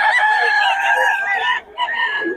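A rooster crows loudly and close, one long drawn-out call that dips briefly before rising again.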